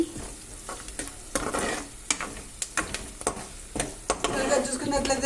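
Spices, peanuts, green chillies, onion and curry leaves fry in hot oil for a tempering, with a sizzle broken by repeated sharp stirring knocks and scrapes close by.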